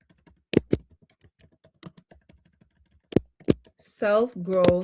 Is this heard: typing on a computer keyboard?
yes